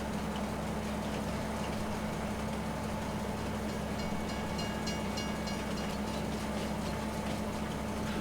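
A train rolls past in the farming game Farming Simulator 22, a steady, loud rumble with dense rail clatter and a faint squeal holding evenly throughout with no voices.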